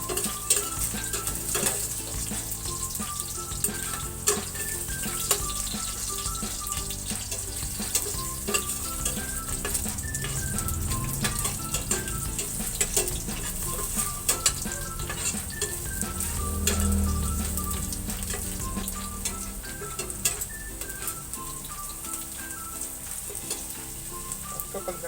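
Garlic and ginger fry in a pan with a steady loud sizzle, occasional stirring and utensil clinks against the pan, and faint background music throughout.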